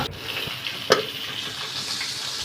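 Cabbage and small potato pieces cook in a wok, giving a steady low sizzle with soft stirring scrapes and one sharp clink partway through.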